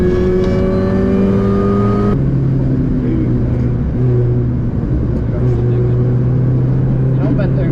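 A Mini Cooper S R53 engine pulls hard at full throttle on a race track, loud in-cabin drone with rising pitch, an upshift, then sustained revving under the driver's talk.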